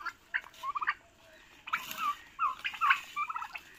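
Turkeys gobbling in short, rapid rattling bursts, several birds calling in overlapping clusters with brief pauses between, fairly close and loud.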